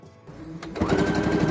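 A sewing machine stitches a folded rolling hem on a cosplay garment, its motor whirring up quickly into a steady, close, rhythmic hum.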